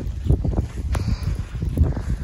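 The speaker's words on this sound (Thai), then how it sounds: "ออกมาเดินเล่นเจอพายุ หนักมาแบบแรงมากเลยมองไม่เห็นทางเลยมันแบบว่ามาทางลมทางหน้าด้วยค่ะ" Strong snowstorm wind buffets a walker outdoors in Japan, heard as loud, rumbling gusts battering the microphone in uneven surges, with no talking.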